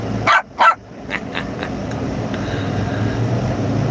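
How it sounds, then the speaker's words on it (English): A dog gives two sharp, close barks in quick succession, then falls quiet over a steady low background hum. "Woof, woof."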